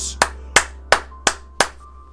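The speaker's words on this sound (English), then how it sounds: "round of applause for Beastly Force" Five sharp, evenly spaced hand claps ring out close by, a small round of applause after a Pokemon card game match.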